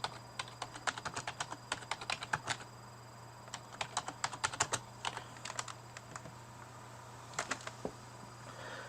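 Quick bursts of keystrokes on a computer keyboard, clicking in uneven clusters with short pauses between them, close and fairly quiet over a steady low hum.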